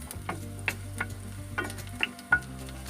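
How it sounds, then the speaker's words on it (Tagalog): Garlic sautéing in a pan for a Filipino pork lomo made without blood gives a steady, close oil sizzle, broken by several sharp spatula clicks and scrapes against the pan. "Una guys ay magigisa tayo ng bawang."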